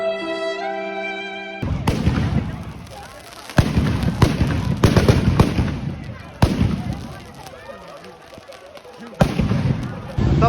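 Dussehra firecrackers burst in a string of loud, sharp bangs at uneven intervals, close by, with crackling between blasts and people's voices faintly underneath.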